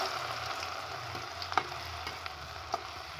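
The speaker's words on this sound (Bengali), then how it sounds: "এই দেখো, আমি এইভাবে নেড়ে চেড়ে ভালো করে ভেজে নেব" Raw potatoes fry in hot oil for a party-style aloo bhaja, a steady close sizzle with faint clicks from stirring now and then, and no voices.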